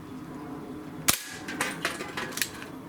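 Shots from a Barra 1858 air revolver striking targets: one sharp crack followed by several lighter, quick snaps spaced across a couple of seconds, fairly close and with no talking.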